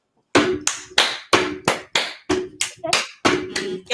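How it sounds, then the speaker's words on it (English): A rhythmic soul clap from an open mic comedy crowd, about a dozen sharp hand claps in a syncopated pattern, close and loud, with brief silences between groups. "In between, there's a soul clap,"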